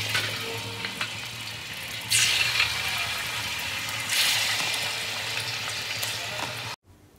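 Small chicken pieces fry in lightly heated oil for noodles, a steady soft sizzle with two brief louder surges of crackling, ending abruptly in near silence.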